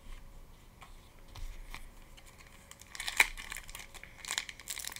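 A Pokémon Paldea booster pack wrapper is handled and torn open, soft crinkling that grows into sharper crackles and a tearing burst partway through, close and fairly quiet.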